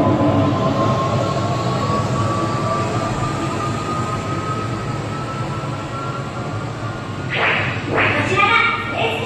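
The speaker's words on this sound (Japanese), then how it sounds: "夢島ターミナル発スタージャムロー行き軌道エレベーター、まもなく出発いたします。" Departure effect of the orbital elevator ride in the Gundam pavilion at the Osaka Expo: a loud, steady mechanical rumble and whoosh like a train, with a rising tone and sharp hits near the end.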